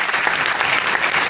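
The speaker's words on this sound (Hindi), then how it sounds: "जोरदार तालियां" Loud, continuous applause from an audience at a Premchand plays festival, a thick wash of many hands clapping close and full without pause or voices.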